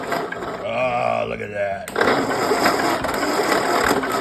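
A worn starter motor cranks the engine of a Ford 8N tractor, a harsh, loud mechanical grinding that kicks in abruptly after someone speaks briefly over a whirring tone.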